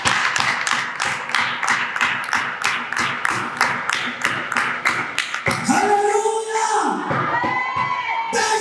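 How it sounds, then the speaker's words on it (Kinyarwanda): A church congregation claps in brisk, even unison for several seconds, then breaks into loud cheering, whoops and raised voices. "Rekera komera Imana amashyi."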